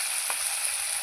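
Chopped onions frying in a pan with salt and turmeric, a steady close hiss of sizzling oil with one brief stir partway through, no voices.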